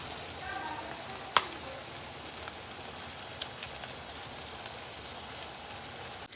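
Steady, close sizzling and crackling as eggs go into cauliflower frying in a pan, with one sharp clink partway through and no talking.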